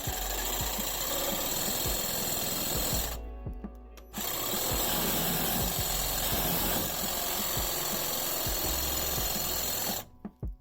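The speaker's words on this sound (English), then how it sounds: "I use a cordless saw to cut the pipe." A cordless saw cuts PVC sewer pipe in a basement with a loud, buzzing reciprocating rattle. The cutting runs in two long stretches with a brief stop between them and halts near the end.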